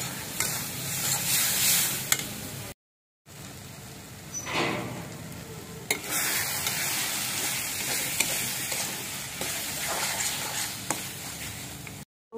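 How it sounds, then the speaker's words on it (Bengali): Taro leaves from a rooftop garden fry and are stirred in a pan, giving a close, crackling sizzle with scraping strokes. A brief silent gap interrupts it before the frying resumes. "তো এখন আমি কচু শাকটা দিয়ে দেবো। ভালো করে ভাজতে হবে।"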